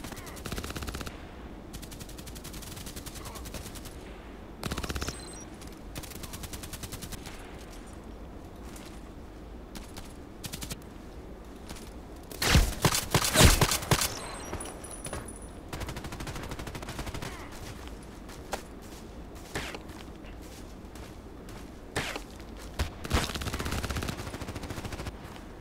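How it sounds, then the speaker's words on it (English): Enemy gunfire in a tank battle game, with rapid bursts of shots crackling through steady background engine noise and a loud, dense volley in the middle, lighter shots scattered around it. "Oh, he's shooting at me."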